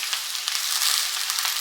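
Spring onion and chopped onion fry in a pan, giving a steady, close hiss of sizzling oil with faint crackles throughout, no voices.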